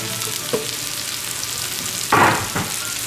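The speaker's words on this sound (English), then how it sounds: "we're browning our mushrooms and cooking them and brown them" Mushrooms sizzle as they brown in butter in a pan, a steady hiss under a few louder stirring bursts, close and without talk.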